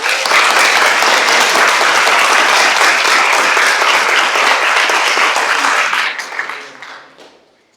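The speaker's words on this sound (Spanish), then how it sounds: "démosle un fuerte aplauso a Estrella Guerrero." Loud, dense audience applause at a talk on pedagogy, steady clapping from a large crowd that holds for several seconds, then fades away to silence.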